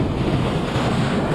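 Sea waves breaking on the shore of a remote, deserted coastline: a loud, continuous roar of surf mixed with wind buffeting the microphone, steady throughout with no voices.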